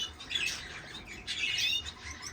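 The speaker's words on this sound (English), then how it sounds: "today we got here a pair of red-billed firefinch" A pair of red-billed firefinches in a breeding setup give thin, high chirps and squeaky calls in two loose clusters over a faint background hiss, fairly close and without talk.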